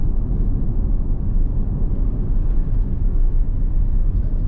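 A Kia race car on a circuit holds a steady, loud engine drone and road rumble as it gradually accelerates out of a corner during a driving lesson, with no voices.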